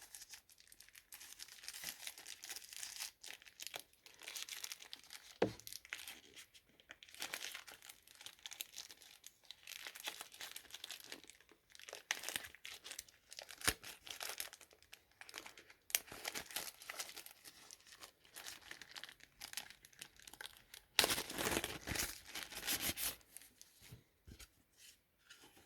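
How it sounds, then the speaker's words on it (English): Plastic protective film is peeled and crinkled off the battery and back cover of a TCL 30z phone. Soft intermittent crinkles and light tearing sound up close and faint throughout, with a louder crinkling burst near the end. "let's start by removing the plastic from the battery and back cover"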